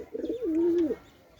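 A single pigeon coos once at a pigeon house, a close, clear rolling call lasting under a second, then quiet.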